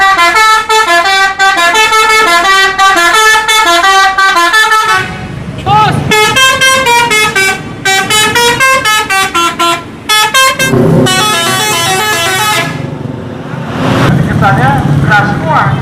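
A toy bus horn honks in loud, repeated musical blasts, playing a rapid tooting melody in bursts with short gaps and a brief rumbling stretch between them.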